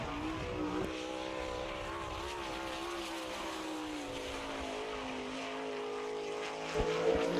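Danny Smith's number 4 sprint car, sponsored by John Baker Excavating, runs a qualifying lap on the dirt oval at Attica, Ohio, its engine a sustained high whine that shifts in pitch and heard from a distance.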